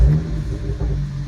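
BMW 335i engine with freshly replaced primary O2 sensors, revving with a steady, loud low rumble throughout, close by and with no talk.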